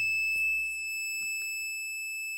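A steady high-pitched electronic buzzer in a switch-detecting circuit holds one continuous tone for a couple of seconds, with faint clicks and handling noises beneath it.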